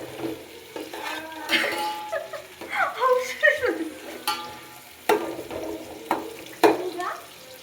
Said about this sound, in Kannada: ಬಟ್ ನಾನು ಹೇಳ್ದಂಗೆ ತುಂಬ ಸಾಫ್ಟ್ ಆಗೋವರೆಗೂ ಫ್ರೈ ಮಾಡಿ